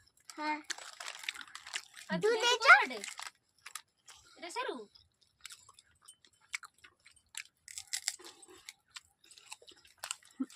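Someone bites and chews crunchy papad at home in quick, crisp crackling crunches, close to the mic, with brief talk early on and scattered chewing after.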